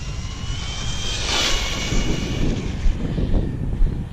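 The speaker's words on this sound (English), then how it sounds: "she is on a wheelie doing the speed run" A Team Associated DR10 RC car makes a speed run on a wheelie, its motor giving a loud, rising whine that swells past the listener and fades, with wind buffeting and no voices.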